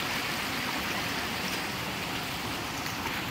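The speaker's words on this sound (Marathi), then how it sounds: "धबधब्याचा प्रवाह आहे ॲक्च्युली, तो धबधबा नाही आहे" A small stream flowing from a waterfall in the Konkan jungle near Chirani village gives a steady, dense rush of water, close and continuous with no pauses, with no voices over it.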